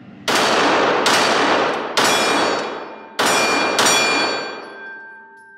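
A Glock 17 9mm pistol fires five loud, sharp shots at irregular intervals about a second apart, each with a ringing metallic tail that decays before the next.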